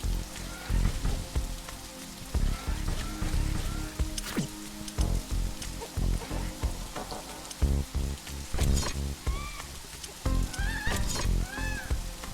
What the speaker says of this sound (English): This rain is harmless to our base, but it decreases solar panel efficiency